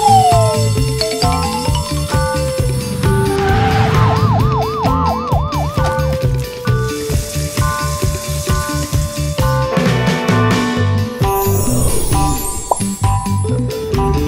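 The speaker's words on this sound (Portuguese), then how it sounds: "Caminhão de bombeiros." A fire truck siren wails in rising and falling sweeps, loud and close, mixed with other tonal effects and busy background sounds, with no one talking.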